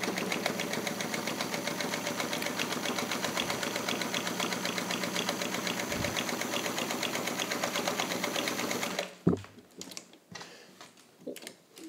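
A Singer Featherweight 221 sewing machine stitches through eight layers of lightweight muslin with a fast, steady mechanical whir and rapid needle ticking for about nine seconds, then stops, leaving a few handling clicks and thumps, close and alone.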